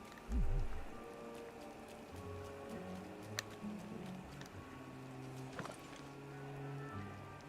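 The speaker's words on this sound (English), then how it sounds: "now it's raining again" Rain patters steadily in the farming life-sim game Disney Dreamlight Valley, a soft continuous hiss with light drop ticks laid under looping game music and tones, at moderate, even loudness.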